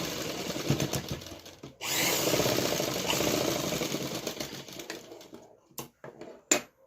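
A sewing machine stitches a suit seam in a fast, close mechanical rattle that runs steadily for a few seconds. Softer clicks and handling sounds come before and after the run.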